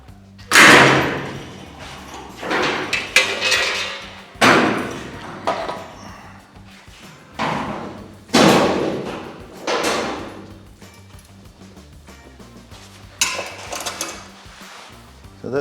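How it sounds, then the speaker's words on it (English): A spot welder joins new drip gutters to an XC panel van, giving a series of loud, close bursts, each a sharp hit that trails off, spaced a second or two apart. "So that's the spot welder we use."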